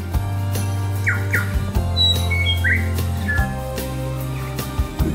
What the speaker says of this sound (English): I never get sick of recording the bird calls.